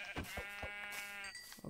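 Sheep bleating in the Minecraft video game: a steady, wavering bleat running nearly two seconds, with several short pulses over it, heard alone and fairly quiet.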